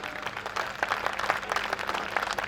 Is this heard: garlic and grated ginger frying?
no